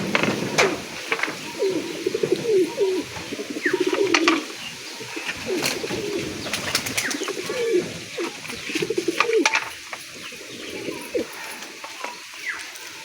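Gola chap pigeons coo repeatedly in a loft, soft rolling calls overlapping one another at close range, with a few sharp clicks and wing or perch knocks in the background.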